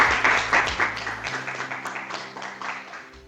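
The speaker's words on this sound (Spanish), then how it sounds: "Otro aplauso." An audience at a lecture on drone inspection of bridges claps in a dense burst of applause that gradually thins and fades over a few seconds, with faint background sounds.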